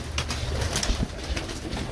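Pigeons coo softly in a repeated, low murmuring rhythm, with at least two birds near a coop heard over steady outdoor background noise and no talking.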